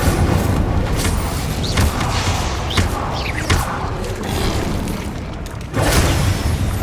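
A fire spell blast in the Hogwarts Legacy video game, a loud, dense roaring boom that sustains for several seconds with crackling bursts and a fresh surge near the end.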